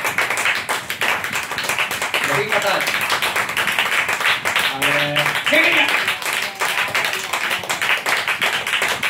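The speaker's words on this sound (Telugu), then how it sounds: "దేవుని సన్నిధిలో 2 చేతుల పైకి గట్టిగా చప్పట్లు కూడా ప్రభుని కనపరచండి" A church congregation clapping hands loudly and continuously in fast rhythmic bursts at a prayer service, dense and close, with voices speaking or calling out over it at moments.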